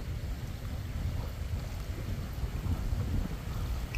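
Wind gusting beside a UK canal at a fishing spot, a steady low rumble buffeting the microphone with no letup for the whole stretch, no voices.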